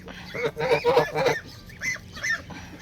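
Several geese honk in loud, nasal bursts close by, first a cluster of overlapping calls and then two shorter separate honks, with no talking.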